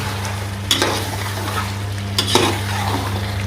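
A spoon scrapes twice through aloo chicken masala frying in a pot, sharp stirring strokes over a soft, constant sizzle and a low kitchen hum.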